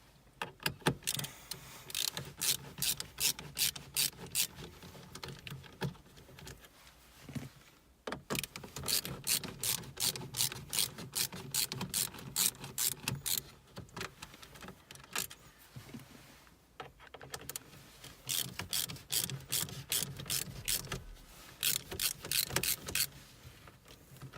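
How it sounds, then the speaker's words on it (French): Four screws come out of a VW Polo RNS510 head unit, giving rapid ratcheting and clicking bursts in several close, loud runs separated by short pauses. "Donc là, 4 vis à retirer."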